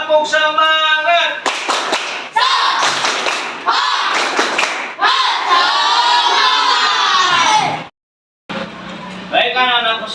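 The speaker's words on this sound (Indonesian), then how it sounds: "Sekali lagi, tepuk semangat." A classroom of children does a rhythmic spirit clap in Indonesia, with bursts of patterned clapping and loud group chanting and shouting close by, briefly broken by silence.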